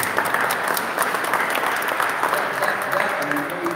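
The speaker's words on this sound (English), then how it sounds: "Can I get an applause?" An audience at an exhibit talk on early African American life in Pittsburgh applauds, a loud, dense burst of clapping that continues steadily, with faint voices mixed in near the end.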